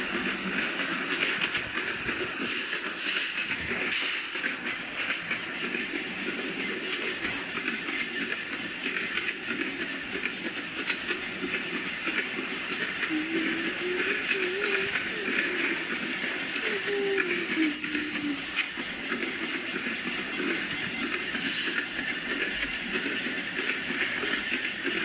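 An express train passing, a sustained loud rumbling roar with rattling clatter that runs unbroken for the whole stretch, with a faint voice briefly audible partway through.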